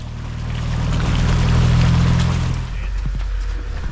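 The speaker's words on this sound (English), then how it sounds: "we're driving through a river now" Off-road vehicle towing a trailer fords a river on Whipsaw Trail, its low engine drone under loud sloshing, rushing water that swells then eases near the end.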